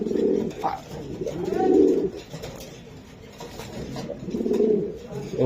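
Club-raced racing pigeons coo close by in repeated low, swelling phrases that rise and fade in waves, with light background noise between the calls.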